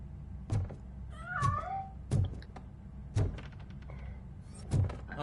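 A cat in the video game Robocop: Rogue City gives a single wavering meow, set among several heavy, evenly spaced thuds over a low background hum.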